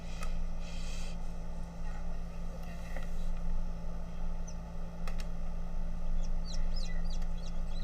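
Newly hatched bantam Silkie chicks and chickens chirp and cluck in a steady stream of small peeping calls over a constant low hum, with a person speaking faintly now and then.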